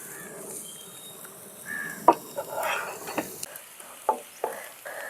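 Finely chopped small shallots fry in coconut oil in a pan, giving a soft continuous sizzle broken by stirring clinks and scrapes, close and moderately loud.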